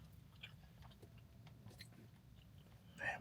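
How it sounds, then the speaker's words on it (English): Close, quiet chewing and biting on a mouthful of seasoned beef and rice, soft wet mastication sounds with a brief louder crunch near the end, no talking. "I'm sitting here just chomping away."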